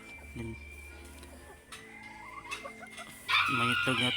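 Backyard chickens cluck in short bursts, with a louder run of clucking near the end and faint crowing in the background, close by amid quiet farmyard noise.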